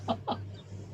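Chicken clucking twice in quick succession, fairly close, with a steady low hum underneath and no talk.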